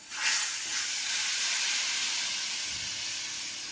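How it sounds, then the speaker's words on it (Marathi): Hot water is poured into a hot pan for a dubuk vada amti curry and hits it with a loud, close burst of hissing steam and sizzle that holds steady for several seconds before easing slightly; no talk. "आणि गरम पाणी टाकायचं थोडं"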